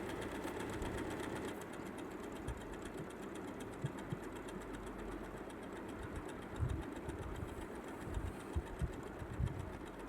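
An Usha Janome Allure sewing machine stitching scallop work runs as a quiet, rapid, even mechanical whir. The motor hum is steady, with occasional soft clicks and thumps of the mechanism near the end.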